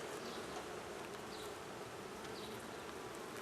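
Steady, dense buzzing of many honey bees close by at an open hive during an inspection, an unbroken droning hum with occasional individual bees passing nearer.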